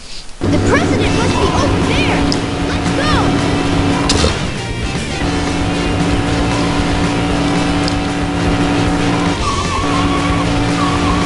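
Car racing in Sonic Adventure 2 Battle, with a loud continuous engine roar and squealing, skidding tires, and a brief lull partway through before the engine drone resumes.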